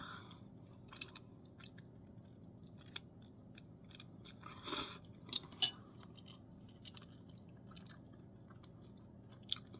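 Someone eating spicy ramen noodles, soft wet chewing and slurping close to the mic in a quiet room, with a few brief sharper clicks like utensils or bites scattered through.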